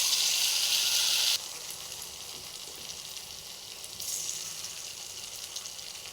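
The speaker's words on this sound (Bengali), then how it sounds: "গরম তেলে আমি এই বলগুলো এইভাবে ছেড়ে দিলাম" Carrot and paneer balls slide into hot oil and fry with a steady, bright sizzle, loud at first and then settling into a softer continuous crackle with a brief swell near the end.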